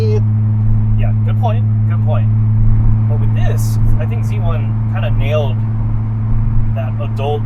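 A Ford Taurus with a Z1 touring cat-back exhaust cruises at about 2,500 RPM and 60 mph, giving a steady low drone that sits beneath continuous conversation inside the car.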